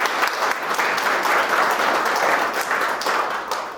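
An audience at a lecture hall breaks into steady, dense applause that carries on loudly throughout, with no voices over it.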